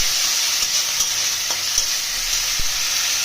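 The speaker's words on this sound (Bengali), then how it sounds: "আদা রসুন আদা রসুনের পেস্ট আদা রসুন একটু ভাজা ভাজা করবে" Ginger garlic paste fries in oil in a pan with softened onions, a steady loud sizzle with a few faint stirring clicks throughout.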